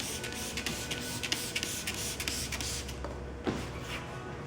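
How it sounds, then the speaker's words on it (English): A spray bottle spraying water in a series of short, quick hissing bursts while fitting vinyl hood spears on a 2010-current Camaro, then a lone spray after a pause, close and fairly quiet. "you want to spray it down again"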